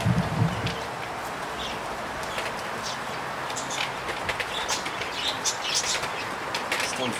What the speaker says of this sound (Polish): Grupa też około 30-40 gołębi.